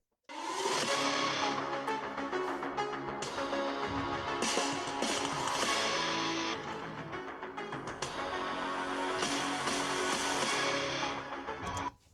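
Music plays steadily from the small, thin-sounding speakers of a ThinkPad P14s Gen 7 laptop at 50% volume for about twelve seconds, full and dense with a slight dip in the middle.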